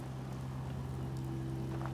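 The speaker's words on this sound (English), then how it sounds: "Ooh, it's raining." Steady rainfall in the video game Fallout 4, a continuous even hiss of rain heard alone, with a low steady hum underneath and no talking.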